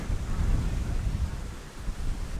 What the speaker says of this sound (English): Nice and breezy, which is good when you're walking, cools you down.